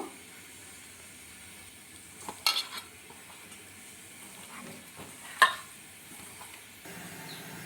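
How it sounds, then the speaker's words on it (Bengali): Fish being hand-mixed with salt and turmeric for a rohu curry, with soft wet squishing and a couple of sharper clinks of a bowl, quiet and close. "নুন আর হলুদ গুঁড়ো দিয়ে মাছটাকে ভালো করে মাখিয়ে নিব।"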